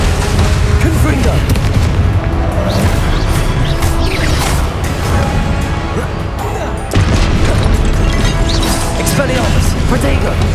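Confringo blasting spell explosions in Hogwarts Legacy, heavy booms and crashes landing amid a loud, chaotic spell battle, dense and continuous, with a sharp fresh burst partway through.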